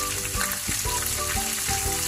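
Tuna dayok sizzling loudly in a pan with tomato, onion and garlic, a dense continuous crackle with small pops throughout.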